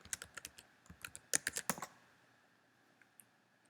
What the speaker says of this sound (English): We will log in as the user Steve and enter the password GoHawks